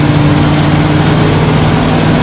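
A 1979 Dodge 100 truck engine runs at full throttle, a steady, loud, low mechanical roar with a constant hum and no letup, heard alone with no talking.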